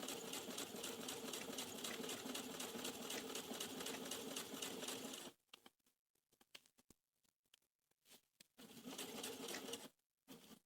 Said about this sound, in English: Put the needle down, turn again. Lock in your stitches. And we've top stitched the bib.